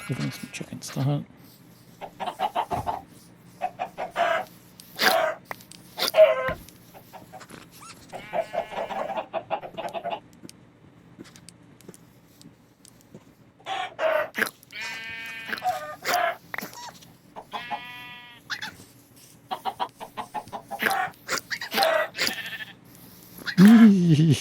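Minecraft chickens hunted by foxes: scattered clucks and bleating-like animal calls in short irregular bursts over a low steady hum, moderately close.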